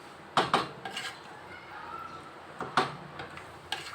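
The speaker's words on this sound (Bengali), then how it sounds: "এবার এটা ঢেকে নেব একটু" A metal lid clinks onto a cooking pot of chal potol, a couple of light sharp taps and rattles close by, with small clatters between them in a quiet kitchen.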